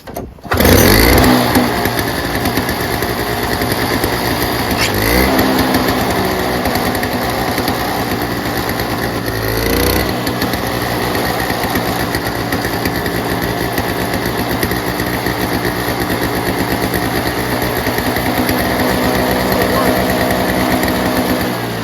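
A Toro 7HP R-Tek two-stroke single-stage snowblower fires up and keeps running with a loud, buzzy, high-revving drone, close by and steady throughout, with a voice partly underneath.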